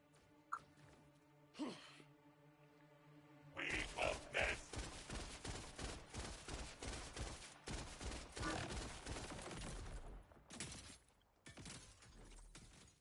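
Rapid gunfire from a gun in the video game Borderlands 4, a loud sustained volley of quick rhythmic shots with some shattering and game effects, preceded by quieter musical tones and a couple of isolated hits.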